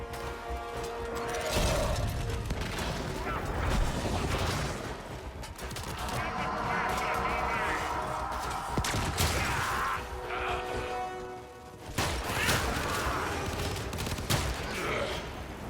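Continuous rapid gunfire from the Warframe video game, dense and loud with overlapping bursts and mechanical clatter throughout, with a voice talking underneath.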